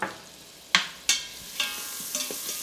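Butter melts in a heated Instant Pot on saute mode, giving a soft steady sizzle broken by a few sharp clinks and scrapes, with no talking.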